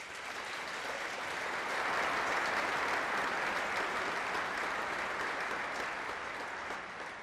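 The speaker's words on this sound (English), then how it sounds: "Now but a round of applause." Large outdoor audience at a US Army Twilight Tattoo honoring the Old Guard gives sustained, even applause, swelling slightly and holding steady as a dense wash of many hands.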